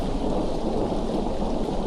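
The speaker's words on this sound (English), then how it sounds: "Not even 5 minutes have passed and already the drizzle has turned into a downpour." A heavy downpour in the video game Fault milestone one roars as a dense, steady wash of rain, with a low rumble underneath and no voices.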